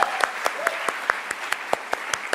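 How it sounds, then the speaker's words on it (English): Scattered applause at a graduation ceremony, with sparse individual claps in an irregular rhythm. The claps sound fairly close, and a whistle rises briefly partway through. "A round of applause to ourselves."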